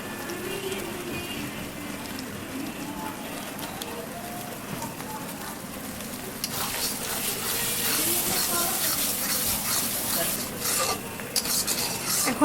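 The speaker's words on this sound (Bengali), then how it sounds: "এখন ভালোভাবে রোস্টের মশলাটা কষাই নেব।" Roast spice paste for a wedding-style chicken roast is stirred and fried in a pan, with steady scraping and rubbing close by over a sizzling, watery background that grows busier and louder halfway through.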